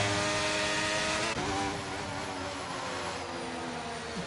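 A racing car engine in a video game race at the Netherlands round screams with a continuous high, squealing whine, loud and steady with a slight shift in pitch partway through.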